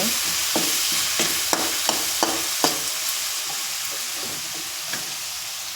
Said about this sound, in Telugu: ఆయిల్లో ఇప్పుడు మనం మిక్సీ పట్టుకున్న పేస్ట్ వేసుకోవాలి